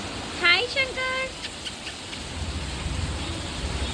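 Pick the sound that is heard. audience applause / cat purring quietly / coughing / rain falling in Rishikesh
rain falling in Rishikesh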